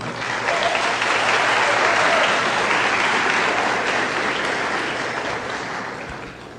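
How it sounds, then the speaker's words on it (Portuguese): Applause from a forum audience fills the room, loud and even throughout with many hands clapping, fading slightly toward the end. "Uma salva de palmas para ele."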